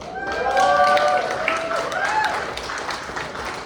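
Guests at an awards gala in Jericho Palace clap together in a full, sustained round, with a few voices and a drawn-out cheer rising over the applause before it eases slightly.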